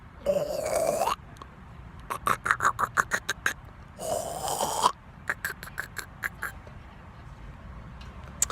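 A voice imitates a tugboat snoring with two long rasping inhales, each followed by a rapid run of short puffing, sputtering exhales, repeated in a steady pattern.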